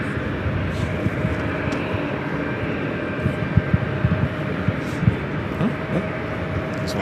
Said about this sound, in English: It's one of those JetBlue Airbus A220-300s in the newer livery.